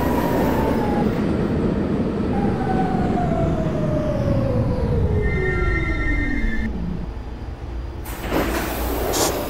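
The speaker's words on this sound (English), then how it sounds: "This is a Catlin bound E Express train." A New York City subway E express train runs loud and close, a steady rumble of wheels with tonal whines that glide downward as it moves, then a brief high squeal near the end.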